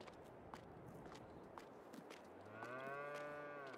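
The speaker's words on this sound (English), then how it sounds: "As you can see, we got some cattle here inside right now." Cattle in a barn in Farming Simulator 22, a low drawn-out moo rising near the end over a steady background of hooves shuffling and ambient barn noise.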